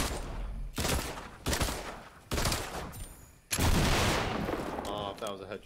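Gunfire in the Fortnite video game, heard as several loud, sharp bursts separated by short gaps. Players talk over the shots.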